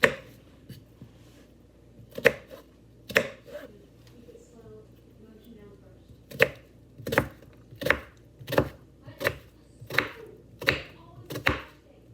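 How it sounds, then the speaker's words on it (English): A knife chops an onion on a cutting board, giving about a dozen crisp, separate thuds. They are irregular at first, then fall into an even rhythm. The sound is close, with a little quiet talk between cuts. "let's get this onion cut up"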